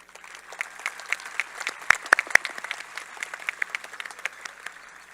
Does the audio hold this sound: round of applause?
yes